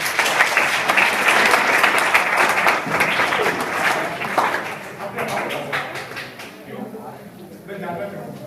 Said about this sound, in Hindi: वेरी गुड, ताली बजाओ।